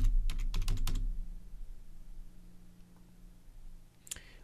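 A few quick computer keyboard keystrokes as a search term is entered in Garmin BaseCamp mapping software, a short burst of clicks near the start and one more isolated tap later, over a low steady hum.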